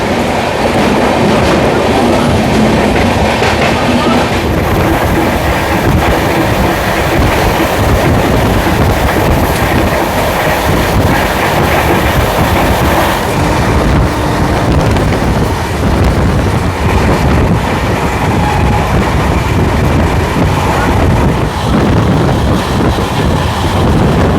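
The Padatik Express from Sealdah to New Changrabandha rumbles loudly and constantly, with rail clatter and buffeting wind noise heard from onboard.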